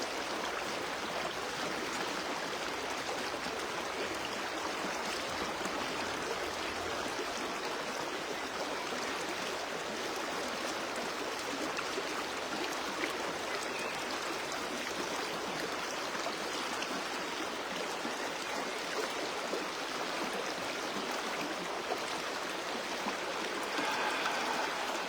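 A river flows outdoors with a soft, steady rushing and babbling that stays even and fairly distant for the whole stretch, with no one speaking.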